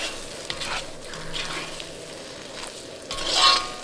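Grated coconut and ripe banana fry in ghee in a pan, a soft continuous sizzle broken by scraping stirs of a spoon, close by, with no talking.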